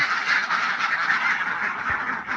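A group of ducks quacks continuously at close range in a backyard poultry pen, a busy overlapping chorus of nasal calls with no voices over it.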